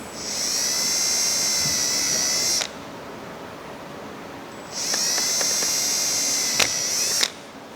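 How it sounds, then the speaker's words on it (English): A power drill with a 1/8 inch bit cuts between holes in a brake cooling kit part for a Subaru WRX, with two long, loud high-pitched whines separated by a quiet gap, close and with no talk. "I'm just going to use that drill bit again to connect the dots."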